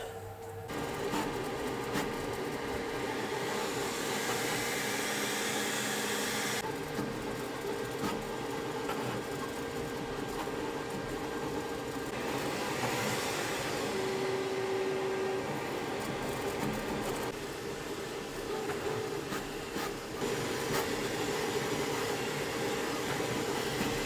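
A 3D printer printing a part in transparent PETG, its stepper motors whirring and buzzing steadily with shifting tones throughout, a continuous mechanical hum with no talk.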